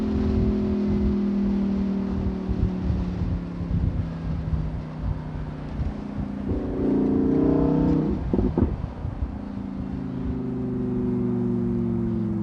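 Lamborghini Huracan Evo Spyder V10 running in Sport mode with its exhaust valves open, a steady loud engine drone with a rising rev swell midway, heard over wind noise from an open-top car.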